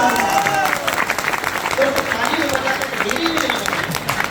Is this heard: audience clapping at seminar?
yes